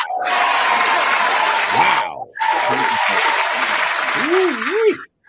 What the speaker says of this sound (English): round of applause for Murs